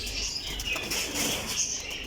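Racing pigeons of a flying breed flap their wings in flight, a steady fluttering whir close by with no voices over it.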